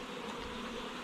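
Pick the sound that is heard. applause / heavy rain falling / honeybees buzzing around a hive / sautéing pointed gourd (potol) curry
honeybees buzzing around a hive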